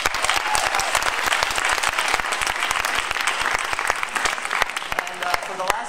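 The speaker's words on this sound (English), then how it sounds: "a round of applause to all of you guys" Audience applause at a medical school talent show after an a cappella group's song, loud dense clapping with many crisp individual claps, sustained evenly with crowd voices beneath.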